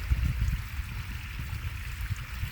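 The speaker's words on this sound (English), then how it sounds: "So this is our front yard waterfall." A front yard garden waterfall gives a steady, close splashing and gurgling flow of water with low, uneven burbles underneath. No voices are heard.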